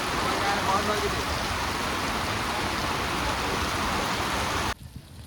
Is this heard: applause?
no